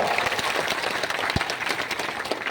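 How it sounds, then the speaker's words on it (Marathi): Steady applause from a crowd at a political public meeting in Mudkhed, a dense wash of clapping that holds level throughout without voices standing out. "जोरदार टाळ्या"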